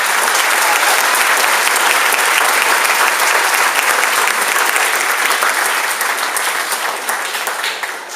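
Audience applause for sixth-grade students being recognized at a middle school awards ceremony: dense, steady clapping from a large crowd, loud and continuous, tapering slightly toward the end.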